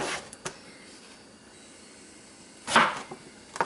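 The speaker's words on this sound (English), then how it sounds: "I'm going to go ahead and chop all this" A knife cuts eggplant into chunks on a board, giving a few sharp, separate chops: two quick taps early, then a louder, heavier cut after a quiet pause.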